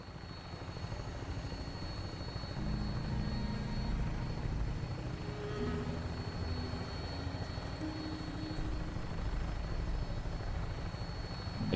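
An aircraft in Fallout 4 on final approach to an airport gives a steady, unbroken engine drone with a low rumble. It holds at an even level the whole time, and no voices are heard.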